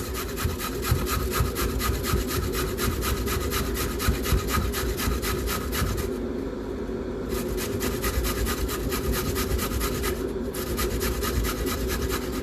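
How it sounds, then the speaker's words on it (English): Carrots rubbed against a kitchen grater for mac and cheese, a steady rapid rasping of quick back-and-forth strokes, fairly loud and close, with two brief pauses and no talking. "Start by grating your carrots."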